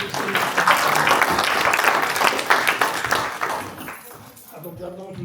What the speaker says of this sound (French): je pense qu'on peut l'applaudir très fort dès maintenant